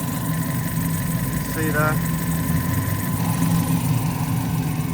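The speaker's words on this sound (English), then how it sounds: "It's running, it's at operating temperature." A Fiat 500 engine idles steadily after a repair with new coolant hose clamps, a continuous low mechanical hum heard close by under a man's brief speech.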